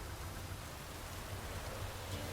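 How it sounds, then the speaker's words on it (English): Steady soft rain hissing in The Witcher 3 game world, a quiet broadband patter with no voices, constant throughout. "Looks like rain."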